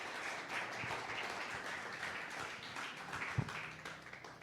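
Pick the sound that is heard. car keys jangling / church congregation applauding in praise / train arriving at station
church congregation applauding in praise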